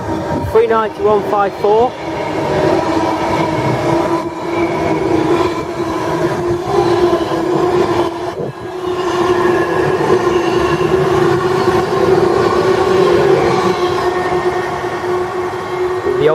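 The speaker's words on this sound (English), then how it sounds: "Next train to go through platform 4 is a Virgin train Pendolino to London Euston" A Virgin Pendolino train bound for London Euston passes through platform 4 at Milton Keynes Central, a loud, sustained rumble and whine with rail clatter, while someone speaks briefly near the start.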